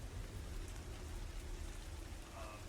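Steady rain ambience, an even hiss of drops on a surface with a faint low rumble underneath, unbroken throughout.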